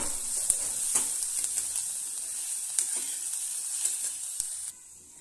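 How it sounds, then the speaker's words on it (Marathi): Bell pepper (capsicum) sautéing in a little oil for a besan shimla mirchi dish, with a close, steady bright sizzle and occasional stirring clicks, then a sudden drop to quieter hissing near the end. "आता हे पण 2 मिनिटं आपण परतवून घेऊया"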